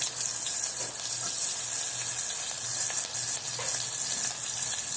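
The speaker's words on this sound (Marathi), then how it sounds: "थोडंसं जिरं घालूया, कांदा परतून घेऊया" Onion sautéing with cumin and mustard seeds in hot oil in a pan, a dense continuous sizzle with a few faint stirring scrapes, close and steady, with no voices.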